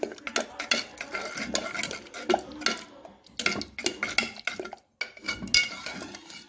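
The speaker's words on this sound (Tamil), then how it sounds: "இப்போ கரண்டியை வச்சு நம்ம அப்படி இப்படி நல்லா குலைவாக மசிச்சு எடுத்துக்கலாம்" Metal ladle mashing cooked tomato and moong dal in a pot for kootu, giving irregular scraping, stirring and clinking knocks against the pot that come in uneven bursts with short pauses and no talk.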